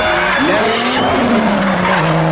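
A race car drifts through a corner at a Turkish drift championship, its tires squealing long and loud over a roaring, pitch-shifting engine, close and continuous throughout.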